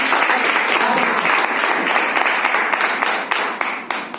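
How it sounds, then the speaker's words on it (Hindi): Loud, sustained applause from a crowd at an RCM business achievers' celebration in Bidar, Karnataka, with dense clapping that continues steadily and fades slightly toward the end. "तो जोरदार ताली के साथ"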